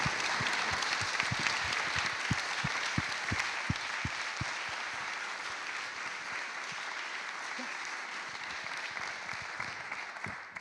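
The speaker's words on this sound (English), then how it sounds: "Let's give them a round of applause" A seminar audience applauds a panel on navigating cancer. The clapping is moderate and sustained, with a few sharp, close hand claps near the start, and it stays fairly steady for about ten seconds.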